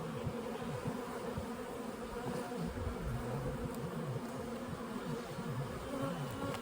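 Honey bees buzz around a hive in a continuous, layered drone, many wings humming at once with wavering pitch, close and steady, with no talking.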